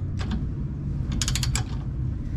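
A 5/8 socket wrench ratchets while loosening the bolt on the rear shock absorber of a Pointer. A few quick, light mechanical clicks come in two short bursts, close up and fairly quiet, with no talking.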